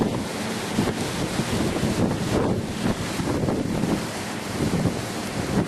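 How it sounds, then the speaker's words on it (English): Powerful wind from tropical cyclone Yasi on the Cairns coast roaring continuously, with surging gusts rising and falling in a dense, loud rush; no voices. "The noise from these gusts is absolutely horrendous as it sweeps in."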